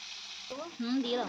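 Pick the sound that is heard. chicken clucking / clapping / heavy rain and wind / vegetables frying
vegetables frying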